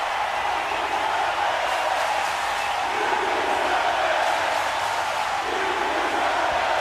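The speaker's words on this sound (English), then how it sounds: "You can hear more cheers, but you can also hear that they are chanting" Arena crowd in the WWE 2K25 wrestling video game cheering and chanting, a dense, steady roar of many voices filling the whole stretch without a break.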